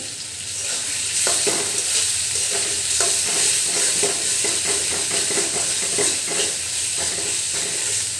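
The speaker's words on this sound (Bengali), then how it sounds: "প্রথমে অল্প পানিতে একটু কষায় নিলাম মশলাটা" Spice paste for beef tripe being stir-fried in a pan, a steady close sizzle with rhythmic scraping strokes of a spatula.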